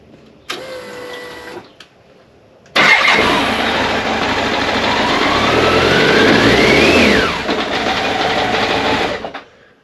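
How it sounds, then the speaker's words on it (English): BMW K1100LT motorcycle engine, cold and running lumpy, cranks briefly, then starts and revs up and back down, loud and close, before settling toward a rough idle. "It's a bit lumpy because the engine's cold, but I can rev it."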